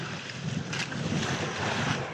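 Strong wind and rough waves of about 2.7 on a fishing boat at sea, a continuous close roar of wind buffeting the microphone with water sloshing and washing underneath.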